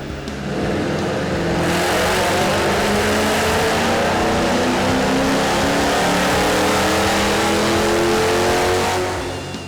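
A 2005-2009 Mustang GT fitted with a cold air intake revs hard on a dyno, one loud sustained pull with the engine note climbing steadily, close and alone.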